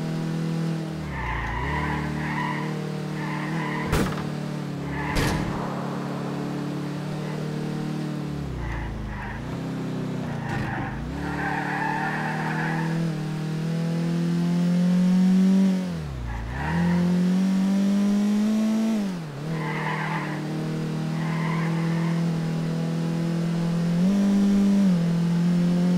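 A 2008 Infiniti G37 Coupe in GTA IV on the Okutama GP track, engine revving up and down through gear changes while tires squeal and skid repeatedly, loud and close throughout.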